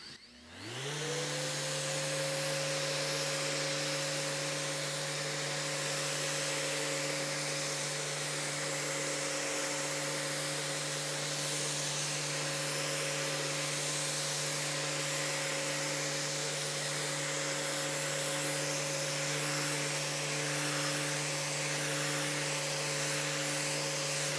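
A power sander running an abrasive pad over stained wood to remove swirl marks, spinning up quickly to a steady high whine with a constant hum that holds unchanged throughout, close and continuous with no talk.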